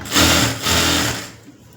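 Sewing machine running steadily while double stitching a blouse lining, a loud close whir in two bursts with a short pause, then slowing and fading out.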